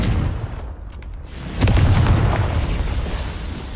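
A Confringo fire spell explodes in the Hogwarts Legacy video game, a single loud, deep boom that bursts partway through and rumbles away over a quiet ambient backdrop.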